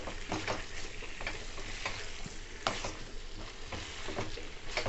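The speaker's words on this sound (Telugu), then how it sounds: "బాగా కలుపుకోవాలి చికెన్ అనేది" Chicken coated in ginger-garlic paste and spices sizzles in a pan while being stirred for a home-style curry, a steady frying hiss broken by sharp scrapes and clinks of the spoon at uneven intervals, close and without talk.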